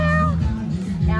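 A cat gives drawn-out meows in a rustic wooden chalet during a house tour, close and fairly loud, with a couple of rising-falling cries filling the brief moment.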